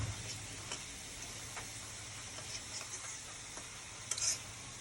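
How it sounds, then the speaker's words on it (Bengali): Onions fry in oil with a quiet, continuous sizzle and light crackles, plus occasional small spoon taps and stirring clinks, close but soft with no talking. "আর এখন পেঁয়াজ ভাজা হচ্ছে"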